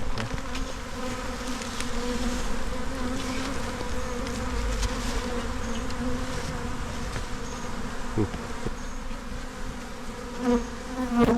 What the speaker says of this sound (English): there's bees in that corner there